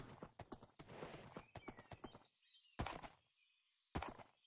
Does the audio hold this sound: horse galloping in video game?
yes